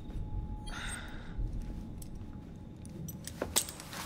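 Keys jangle briefly near the start as they are handed over in Assassin's Creed Syndicate, a faint metallic rattle followed by quiet room tone and a sharp click near the end.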